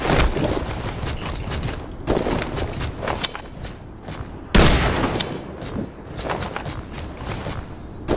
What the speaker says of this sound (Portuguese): Tô tomando tiro direto aqui na porta.